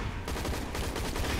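Rapid automatic gunfire from the video game Hazard Ops rattles loudly and continuously in a dense burst, with no talk over it.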